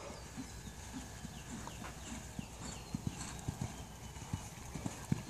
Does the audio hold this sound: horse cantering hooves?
yes